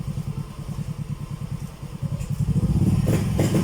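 A motorcycle engine runs close by during a test after cleaning. A steady rapid idle thump turns into louder, rising revs toward the end.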